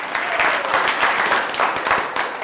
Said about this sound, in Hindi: एक बार सभी ग्रुप ताली बजाएं।